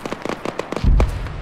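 Distant artillery fire in the military game Arma 3, a quick string of sharp cracking pops followed by one heavy low boom.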